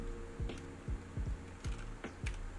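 A computer keyboard clicks close and crisp, a handful of separate key presses ending with enter, spaced irregularly over a low steady hum, no talking.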